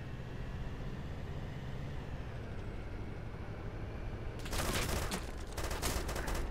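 Gunfire rings out in the military video game ArmA 2, a few sharp, rapid bursts arriving midway over a steady low engine-like rumble.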